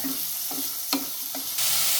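Onions sizzle steadily in oil under repeated scraping and stirring strokes of a utensil in a pan, close up, with the hiss growing louder near the end.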